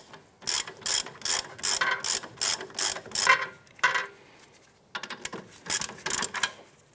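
A ratchet wrench clicks rapidly in bursts while loosening a rear upper control arm bolt on a 2008-2013 Nissan Rogue, with two runs of close, sharp ratcheting separated by a brief pause.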